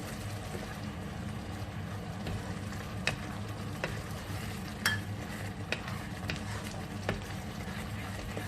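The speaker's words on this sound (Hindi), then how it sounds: "ये जो मसाला है मैं इस फ्राइंग पैन में डाल देती हूँ, और फिर गोश्त को मैं इसमें भून लेती हूँ" Masala and mutton sizzle steadily in a frying pan, a continuous close-up frying hiss with occasional sharp scrapes and taps from stirring.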